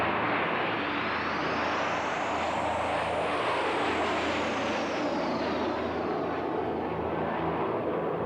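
A B-2 stealth bomber, a large flying-wing military aircraft, roars steadily overhead with a dense, loud engine rumble that swells and shifts in pitch as it passes, with no voices.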